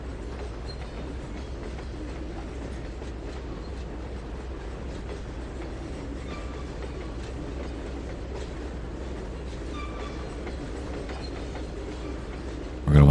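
A train rolling along rails in the Trainz 2022 simulator on the Tidewater route gives a continuous low rumble with faint clicking wheel noise. It stays steady and unbroken, with no talk over it.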